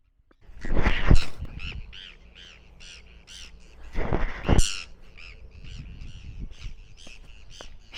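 Birds squawk harshly while approaching across rocky wilderness near Yellowknife in Canada's Northwest Territories: two loud, close bursts of raucous calling followed by a steady chatter of quieter, repeated squawks.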